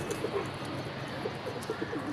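Pigeons kept on a rooftop coo in soft, repeated throaty calls, several birds close by over a steady background hum, with no talking.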